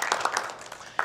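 A small high school gathering gives a brief burst of scattered clapping, a handful of distinct claps close together, fading quickly before one final clap.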